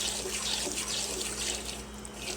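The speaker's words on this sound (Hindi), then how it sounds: "अब हम इसमें पानी ऐड कर देंगे।" Water pours steadily from a vessel into roasted wheat flour in a pan while making aate ka halwa, a continuous close, rushing splash that lasts throughout with no talking.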